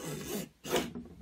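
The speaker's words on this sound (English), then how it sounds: "I grab my box cutting knife and I start to trim that" A box cutting knife trims the edge of a homemade canvas panel, giving two short close rasping strokes with a brief pause between them.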